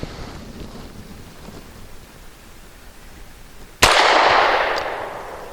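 A single loud, sharp gunshot from Cosaint Arms COS11 steel-cased ammunition, a hot load, cracks out after a few seconds of quiet outdoor background and rings off in a decaying tail.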